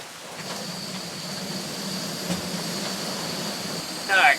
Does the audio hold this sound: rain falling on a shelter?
yes